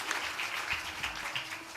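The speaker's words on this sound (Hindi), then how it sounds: "जोरदार ताली से उनका उत्साहवर्धन करें" Steady applause from an audience at a Ramayana quiz event, even clapping held at one level throughout with no voices on top.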